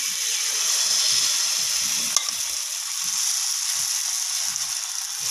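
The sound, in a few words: Spanish omelette egg mixture sizzling in hot pan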